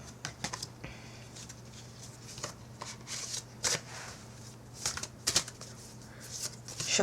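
Tarot card deck being shuffled, a series of quick crisp riffles and soft slaps in irregular bursts, close and fairly quiet over a low steady hum.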